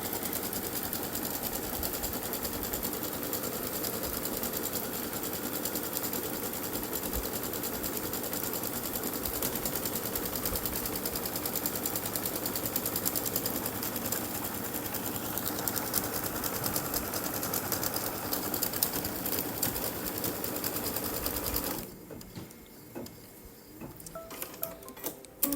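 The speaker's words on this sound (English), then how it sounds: "I have my thread in my machine and everything ready to go, and we're going to stitch a placement line for the batting" An embroidery machine stitches a placement line for quilt batting in the hoop, a steady, fast mechanical rattle running continuously for over twenty seconds before stopping, followed by quieter handling clicks.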